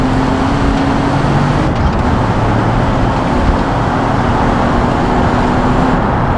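A car in GTA 5 drives at high speed over a pothole-filled road, producing a loud, continuous roar of engine and road noise with a steady low hum and no speech.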